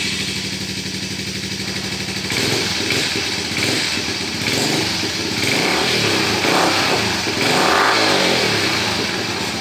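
A Yamaha SR 125 motorcycle engine runs steadily and loudly, with a few throttle blips raising the revs before settling back; no voices.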